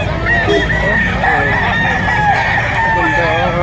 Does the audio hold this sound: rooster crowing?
yes